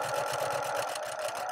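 A Brother PQ 1500 SL sewing machine stitching quilt rows together, its needle hammering in a fast, even mechanical rhythm, close and steady with no talking.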